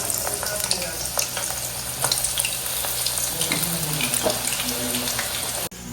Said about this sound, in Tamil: இப்போ நான் இந்த ஒரு வெங்காயத்தையும் பொரிக்கணும்